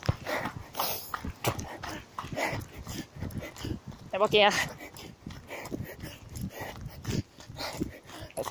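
Outdoors on a windy day, a dog gives a brief, close whimpering yip partway through, with a voice talking over and around it.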